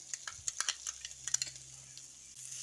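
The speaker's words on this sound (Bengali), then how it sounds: "পটলের শাঁসের অংশটা দিয়ে মশলার সঙ্গে ভালো করে মিশিয়ে নিচ্ছি" Pointed gourd pulp being mixed with spices in a pan, a spoon giving a quick run of light clinks and scrapes over a faint sizzle, close and without talk.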